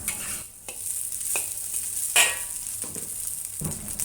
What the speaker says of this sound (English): start by stir frying the rice over low heat until the rice is fully